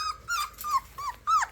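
Puppies whimper in a handful of short, high, rising cries with a faint growl, close and fairly quiet, with no talking.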